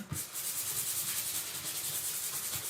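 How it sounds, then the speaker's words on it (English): Fine sandpaper rubs steadily across the front of a small Dollar Tree craft piece, a continuous close, hissy scrubbing with a gentle back-and-forth rhythm. "I am going to go over the front with some fine sandpaper"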